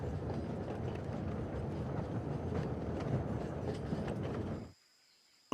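Old film footage of a steady train ride, with a continuous rumbling, rattling drone that holds evenly and then cuts off abruptly near the end.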